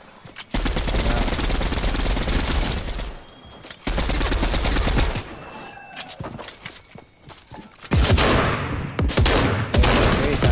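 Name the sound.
gunfire in a video game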